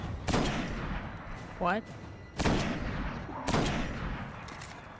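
Three loud, sharp sniper rifle shots from the video game Destiny ring out with gaps of one to two seconds between them, and a brief spoken exclamation falls between the first and second shot.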